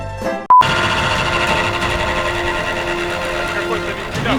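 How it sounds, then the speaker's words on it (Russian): A radiator cooling fan on an off-road car whirs steadily and loudly for several seconds with a droning mechanical tone, after a brief sharp cutout near the start. "Вентилятор радиатора."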